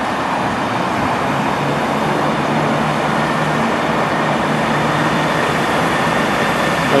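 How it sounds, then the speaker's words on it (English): A Transport for Wales Class 158 diesel unit, number 158835, pulling out of Cardiff on a service to Birmingham International, a loud, steady rumble and rail roar filling the whole stretch with no talking. "16:54 Transport for Wales service to Birmingham International, it's 158835."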